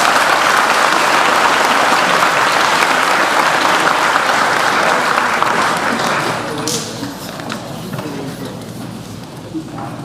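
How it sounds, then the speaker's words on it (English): An audience applauding students at a high school honors night, loud sustained clapping from a crowd that fills the room and then thins out toward the end, with scattered voices beneath it. "Now, please give those students all a full round of applause."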